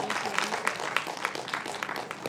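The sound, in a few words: audience applause at awards ceremony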